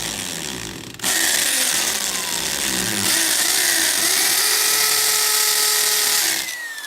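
A power drill bores a pilot hole into a wall for a wall plug while stainless steel cable fixtures are being mounted. It is a loud, close, continuous whine that starts abruptly, shifts pitch as the bit bites, then winds down.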